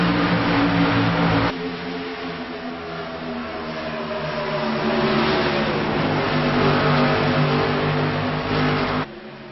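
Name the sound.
race cars accelerating on track after a restart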